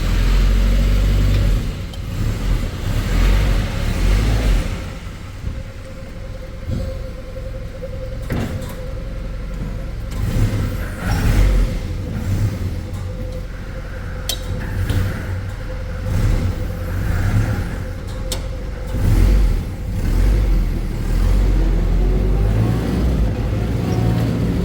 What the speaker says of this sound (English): So let's see how she starts. Oh, fires right up.